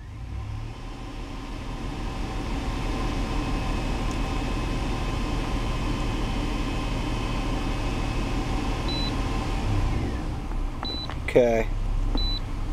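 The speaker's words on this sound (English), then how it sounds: "I'm just going to give it some gas here so we can see if something changes." An idling car engine hums steadily and rises slightly as gas is applied, with a check engine light code scanner beeping a few times near the end and a brief voice.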